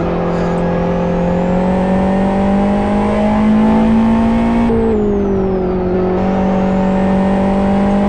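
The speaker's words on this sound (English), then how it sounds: "We'll ride on board with Price as he tries to make his way past the lap traffic." A GT1 race car engine heard on board drones loudly and steadily at high revs, with a brief dip and shift in pitch partway through before climbing again, and no talk.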